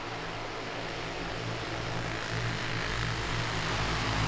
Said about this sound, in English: you will not believe the average speed of these karts once they make this first lap